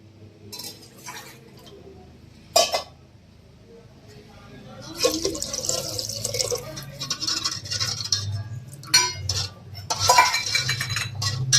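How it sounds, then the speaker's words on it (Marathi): A spoon stirs a pot of Marathi panch dal amti, a five-lentil curry, as water is added: repeated scraping and clinking against the metal pot with splashing, close and fairly loud, growing busier toward the end. "आणखी थोडंसं पाणी ह्याच्यात टाकूया"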